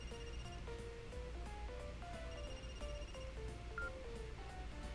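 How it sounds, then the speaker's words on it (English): A phone in the video game Another Code Recollection rings with a repeating electronic melody of short beeping tones, steady and clear, with no talking over it. "Phone's ringing."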